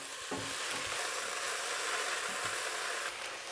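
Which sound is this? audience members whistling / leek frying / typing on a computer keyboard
leek frying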